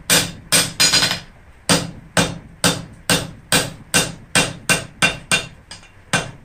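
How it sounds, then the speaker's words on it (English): Steady hammer blows fall on hot steel while forging bolt jaw tongs at the anvil, about fifteen sharp ringing strikes in an even rhythm, close and loud with no talk. "Hammer blows, adjust it back into the taper."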